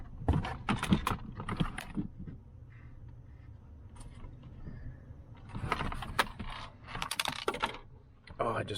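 Small screws slip and fall during a wireless charger install in a Honda Ridgeline, Passport or Pilot. Two bursts of sharp, scattered clicks and rattles are heard, close by, with a quieter stretch between them.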